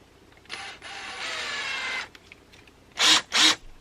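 A power drill pre-drills a hole in sheet metal while solar power electronics are being mounted. One whine of about a second and a half is followed by two short, loud bursts, all close up.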